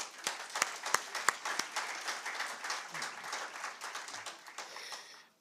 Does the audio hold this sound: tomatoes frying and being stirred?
no